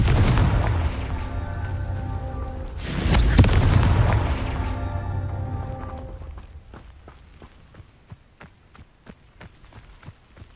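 A Confringo blasting spell in Hogwarts Legacy bursts as a loud explosive roar, swells into a second blast, then dies away into a run of sharp, sparse footstep-like clacks.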